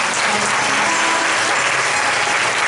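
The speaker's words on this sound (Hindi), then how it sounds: "एक बार ताली बजाएं।" A church congregation claps together during a Hindi worship service, a dense, loud, continuous burst of applause with no talk over it.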